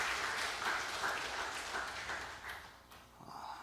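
A church congregation applauds during a Sunday worship service, a moderate wash of clapping from a crowd that holds steady, then thins and fades toward the end.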